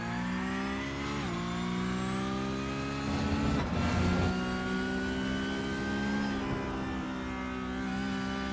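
Race car engine in the iRacing sim held at full throttle, a steady high-pitched whine with rising harmonics and a brief surge mid-way, loud and continuous with no talk.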